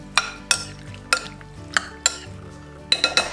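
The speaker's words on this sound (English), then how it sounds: "Just mix it all together and give it a good stir." Panzanella salad being tossed and stirred in a bowl, with a series of crisp clinks and scrapes of a utensil against the bowl at a fairly even rhythm, close up and without voices.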